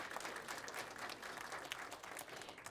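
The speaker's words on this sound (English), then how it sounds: "Round of applause, yes." A crowd applauds at a school ceremony, a thick, continuous patter of clapping heard from a distance, fairly faint but steady throughout.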